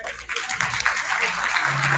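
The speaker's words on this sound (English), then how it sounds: "Give a big applause for her." An audience applauds at a national nursing education conference, a steady wash of clapping from many hands that fills the whole stretch at moderate volume.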